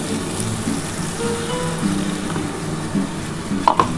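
Masala water poured into spice paste frying in oil for a Bengali duck egg curry, giving a steady soft sizzle with faint stirring and a brief clink near the end, no talk.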